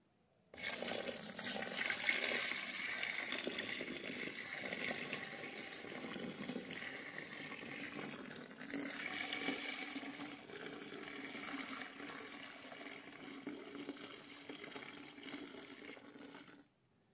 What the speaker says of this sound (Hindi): अभी 4 किलो इसमें पानी डालेंगे।